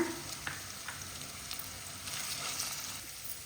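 Green beans and carrots stir-frying in a pan for vegetable hakka noodles, a soft continuous sizzle with occasional scraping stirs, fairly quiet and close, no talking.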